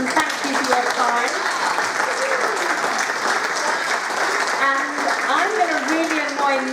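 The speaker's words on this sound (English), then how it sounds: "we're going to give you a round of applause and thank you for your time." An audience applauds warmly for several seconds, a dense, even patter of clapping with some voices murmuring underneath.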